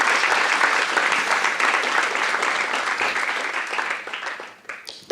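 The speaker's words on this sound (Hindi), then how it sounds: "तालियां बजा सकते हैं और ऐसा खुल के." Steady, dense applause from a live audience at a Hindi spoken-word performance fills the room for about five seconds before tapering off near the end.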